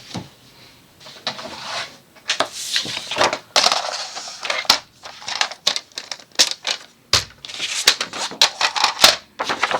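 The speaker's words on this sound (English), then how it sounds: "I'm going to cut my paper down to 8 by 8" A craft paper trimmer cuts a sheet down to 8 by 8 inches, giving a close run of irregular sharp clicks, snaps and scraping slides.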